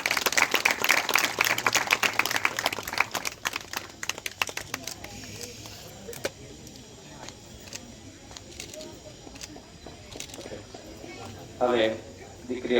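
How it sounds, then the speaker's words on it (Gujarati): Guests at a family engagement ceremony applaud, the clapping loud at first and then thinning to scattered claps that fade out, with a brief voice near the end. "તાળી પાડીશું."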